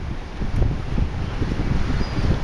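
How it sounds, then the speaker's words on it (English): Strong wind at the ocean buffets the microphone in low, gusty rumbles, a constant roar with no voices. "it is super windy"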